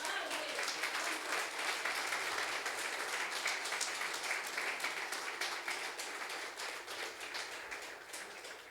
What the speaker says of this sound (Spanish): Fuerte el aplauso para el Rey.